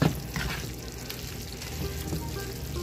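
Ground beef with taco seasoning sizzles steadily in a pan while it is stirred, a continuous close frying hiss with soft scraping and no speech.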